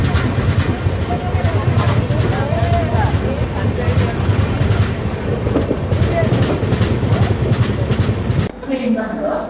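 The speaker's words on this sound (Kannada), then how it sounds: "ಅಂದ್ರೆ ನಮ್ಮ ಬಸವ ಎಕ್ಸ್ಪ್ರೆಸ್ ಎಂಟ್ರ್ ಆಗೈತ್ರಿ ಈಗ ಕಲಬುರಗಿ ಜಂಕ್ಷನಿಗೆ." The Basava Express pulls into Kalaburagi Junction with a continuous rumbling rattle of wheels and carriages close by, steady until it drops off near the end, where a voice speaks briefly.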